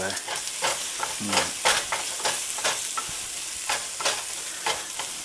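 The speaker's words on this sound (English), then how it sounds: "the bacon and onions and garlic a stir" Bacon, onions and garlic are stirred in a hot pan at medium heat for Southern baked beans. A steady loud sizzle runs throughout, broken by repeated scraping stir strokes, with no talking.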